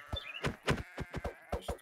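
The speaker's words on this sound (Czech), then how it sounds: "Hele, tady je ovce." A sheep in a video game bleats in a quick run of short, evenly spaced bleats, fairly faint and close, with no talk over them.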